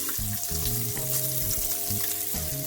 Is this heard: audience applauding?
no